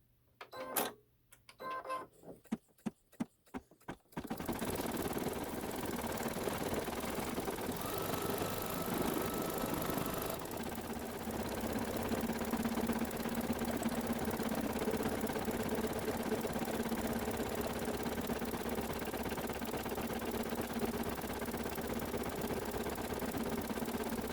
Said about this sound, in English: Now it's going to do the satin edge.